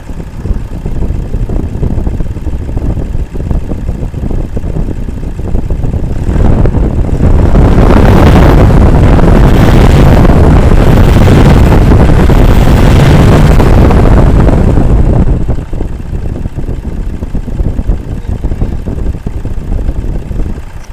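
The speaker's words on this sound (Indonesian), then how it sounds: "Mikrofon saya taruh di sini, saya gas-gas ya bosku." A 2005 Toyota Innova with a 2KD diesel engine, fully rebuilt and restored, is revved close to the microphone: idling clatter swells into a loud sustained rev for several seconds, then drops back to idle.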